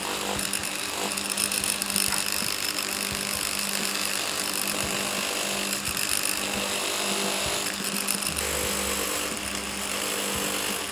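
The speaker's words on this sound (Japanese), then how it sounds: "これは磨いてる" Power tool polishing a carved juniper mini bonsai to bring out the wood grain, a continuous high whirring grind with fluctuating pitch and short breaks, loud and close throughout with no talk.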